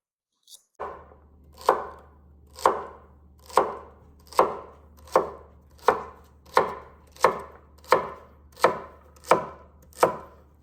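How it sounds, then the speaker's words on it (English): A knife chops celery into fine pieces on a board in about a dozen evenly spaced, crisp, close strikes, each with a short ring, and no voices in between. "Celery, if you don't cut it in small enough pieces, it can be kind of stringy"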